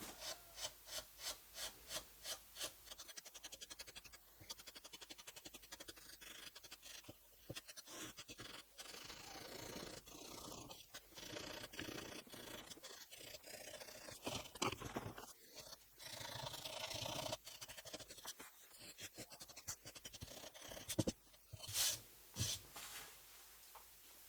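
Rhythmic back-and-forth rubbing of very fine sandpaper on the wooden cabinet of a Telefunken Operette 6 radio, soft raspy strokes that repeat steadily, sometimes faster, close and fairly quiet with no talking.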